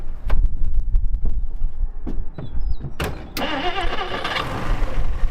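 A 1959 Plymouth, powered through its ballast resistor by a wire run from an old alternator, cranks with a few sharp clicks and mechanical clunks, then catches and runs with a steady, close engine rumble.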